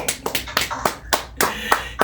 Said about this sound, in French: Applaudissons pour les bien-aimés de Paris.